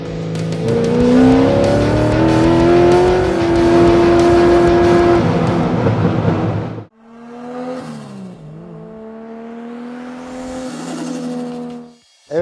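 An 800 hp nitrous-equipped naturally aspirated Corvette revs hard through an open exhaust, a loud rising roar that holds high, then drops to a lower burbling idle with a couple of quick blips before a sharp cutoff.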